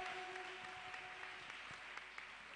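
A church congregation at a Friday morning prayer service applauds to welcome a speaker, with dense, sustained clapping that fills the room evenly throughout.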